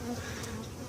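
Honey bees buzzing at a hive, a dense steady drone of many wings close by, continuous and even throughout the short moment with no voices.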